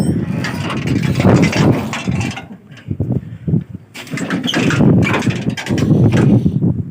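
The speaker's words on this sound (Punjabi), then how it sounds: "ਆਪਣੀ ਤੂੜੀ ਵਾਲੀ ਮਸ਼ੀਨ ਹਨ ਤਿਆਰ ਆ ਬੈਲਟ ਤੇ ਚੈਨ ਆਂਦੇ ਚੜ ਗਈ ਆ" A straw-making threshing machine runs with its belt and chain fitted, giving loud, close mechanical clattering and ratcheting that surges in repeated bursts with brief lulls between them.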